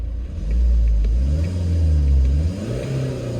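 BMW 318d E91 with the N47 diesel engine at about 297,000 km, revved a few times in neutral with clutch disengaged, a close, deep rumbling rise and fall with no talk.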